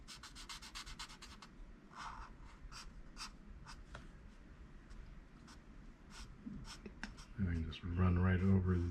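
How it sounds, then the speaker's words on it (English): The chisel tip of a marker lays down semi-broad strokes on paper while drawing Spider-Man and Ghost Spider. Soft scratchy strokes repeat up close, and a person starts talking near the end. "I'm using the chisel end to get me some semi-broad strokes here."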